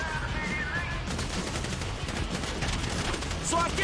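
Grand Theft Auto V gunfire rattles in rapid dense bursts, loud and continuous, with a game voice faintly under the shooting.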